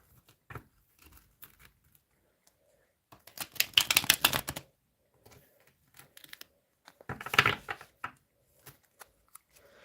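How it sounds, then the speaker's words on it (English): Tarot cards being shuffled by hand in two bursts of crisp riffling and snapping, each lasting about a second, with scattered small card taps and handling sounds between them at close range. "a couple more shuffles for Aquarius."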